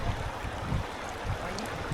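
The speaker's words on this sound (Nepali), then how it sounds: "अनि यो त ठुलो खोला भयो नि त गाह्रो हुन्छ त" Steady rushing of a big river's flowing water fills the scene, an even, close wash of noise with soft low rumbles and no talking.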